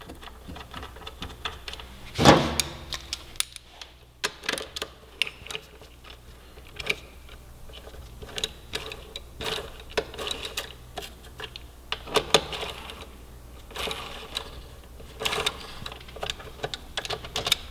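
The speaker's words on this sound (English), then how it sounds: "we're gonna torque these bad boys down" Mechanical clicks of a torque wrench tightening the bolts on Vortex V3 2.0 adjustable rearsets being fitted to a 2015-2018 Yamaha R1, with one sharp clack early on and scattered ratcheting ticks and taps throughout.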